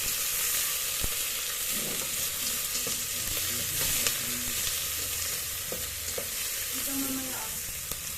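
Tomatoes sauté with chicken breast in a pan, a constant broad sizzle with occasional clinks and scraping of a utensil as the mix is stirred, close and steady throughout.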